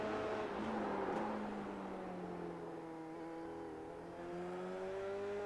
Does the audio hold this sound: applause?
no